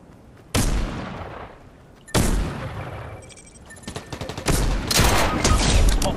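Video game gunfire from a sniper rifle: several sharp, loud shots with booming tails, the first two spaced apart, followed by a denser burst of firing and explosions near the end, with no talking.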